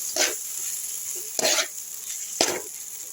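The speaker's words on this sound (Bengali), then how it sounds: "দিয়ে ভালো করে নাড়াচাড়া করে নিচ্ছি।" Tomatoes, coriander leaves and spices frying in oil in a pan over a low gas flame, stirred in three scraping strokes over a steady close sizzle.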